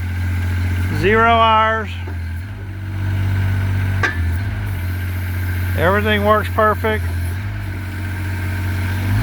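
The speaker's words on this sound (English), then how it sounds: "This is a 2026 VC20 Kubota diesel 20 horsepower engine mini excavator." A 2026 VC20 mini excavator's 20-horsepower Kubota diesel engine idles with a steady low throb, running throughout beneath someone talking nearby.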